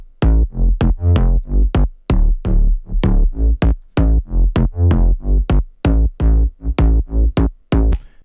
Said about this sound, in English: Here's the bass. Two layers here.